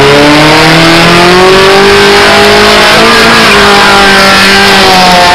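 A car engine revs hard through a loud, modified exhaust with a removed muffler, the pitch climbing and falling in a steady, continuous roar close to the listener with no talk over it.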